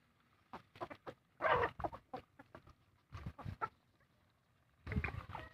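Young roosters and hens of a backyard flock clucking in repeated bursts, close and moderately loud with quiet gaps between the calls.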